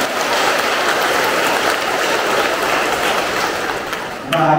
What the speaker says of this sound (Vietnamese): Giáo xứ chúng ta chào mừng ngài bằng một tràng pháo tay to và dài.